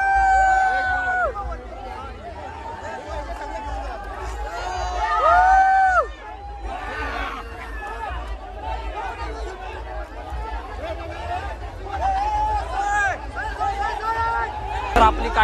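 Villagers crowd together at the Vadhav Bahiridev yatra village fair in 2025, a dense, loud babble of shouting and calling voices that rises into brief cheers, with some louder voices standing out near the front.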